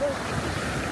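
Wind buffets the microphone at an Alexandria beach, a steady rough rush with surf mixed in. It is close and loud, and a brief tone sits at the very start.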